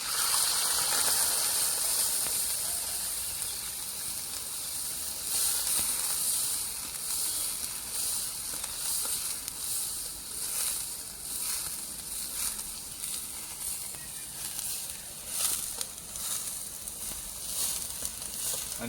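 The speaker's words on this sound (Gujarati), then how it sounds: "100 ગ્રામ ઘીની અંદર ગરમ થયા પછી આપણે 100 ગ્રામ દૂધ ઉમેરી લેવાનું છે" Milk poured into hot ghee sizzles loudly for mohanthal, a dense close hiss that bursts strongly at first, then settles into a steady bubbling crackle with faint stirring.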